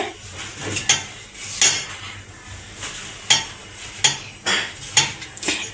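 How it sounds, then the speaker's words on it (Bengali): A knife chops tomatoes on a board while masoor dal bharta is prepared: sharp, close knocks land at an uneven, unhurried rhythm, about ten strikes over a quiet kitchen background. "এখন আমি এই যে টমেটোগুলো কেটে নেব।"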